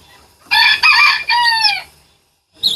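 A chicken suffering in summer heat crows loudly and close by in one long strained call broken into three parts, followed by silence and the start of another call.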